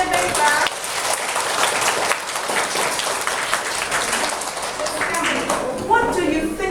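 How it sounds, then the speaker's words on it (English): Classroom of students clapping together, a dense burst of applause from many hands that continues steadily, close and lively, with some voices mixed in. "Give me a big clap."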